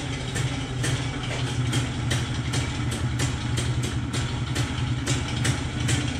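A WSK M06 B1 motorcycle engine idles too slowly nearby, its low chugging beat sounding labored and slightly irregular, with no voices.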